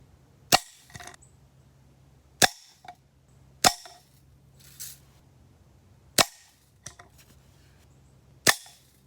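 A Daisy Red Ryder BB gun fitted with an aftermarket spring kit shoots Daisy Precision Max BBs at a target from about ten feet, giving five sharp separate cracks at uneven intervals, each followed by a short ringing tail.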